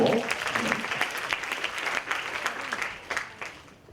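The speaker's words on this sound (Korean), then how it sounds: "박수 한번 주시고" At a mentoring talk concert, a seated audience of mixed ages gives a warm round of applause that rolls on steadily, then tapers off toward the end, with faint voices underneath.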